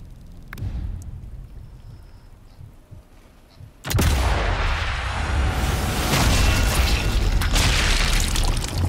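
Gunfire and heavy blasts in the shooter video game Sniper Elite 5: a few sharp cracks, then a loud booming burst that sets off a sustained, roaring barrage of in-game combat noise.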